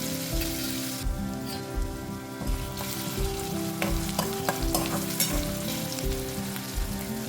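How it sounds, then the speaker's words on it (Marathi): Onions sizzle and fry in hot oil over a medium flame, with ginger-garlic-coriander paste being added, a steady close crackle punctuated by regular stirring scrapes throughout. "कांद्यासोबत ही देखील आपण तेलावर परतून घेऊया"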